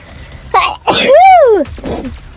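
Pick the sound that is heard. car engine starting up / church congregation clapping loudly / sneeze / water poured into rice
sneeze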